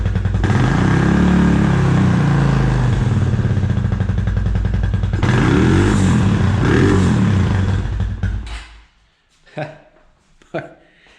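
Engine of a 2004 Suzuki LTZ250 ATV, smoking, revving loudly up close in sustained rising and falling bursts before cutting off, followed by a few faint knocks.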